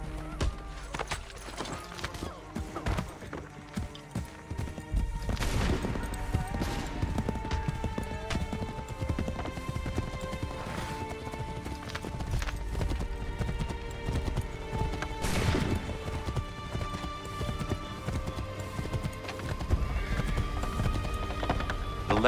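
A horse gallops in Assassin's Creed III, with continuous thudding hoofbeats over a busy game soundscape and occasional neighs, loud and sustained for the whole stretch with no talk over it.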